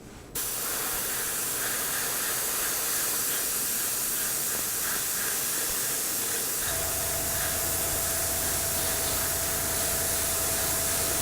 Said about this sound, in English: And we just begin spraying.